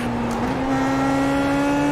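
An open-wheel IndyPro race car engine at Laguna Seca in a racing game, holding a steady, loud, high-pitched drone whose tone climbs slightly as it accelerates, with no talking.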